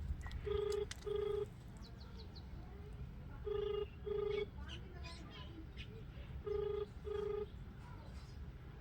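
An outgoing phone call rings back through a speaker, repeating three times as a clean double ring with long gaps between, over a faint background hiss.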